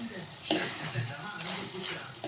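Spicy chicken pepper dry is stirred in a pan, with a soft continuous sizzle, scraping, and a few sharper clinks of the utensil against the pan.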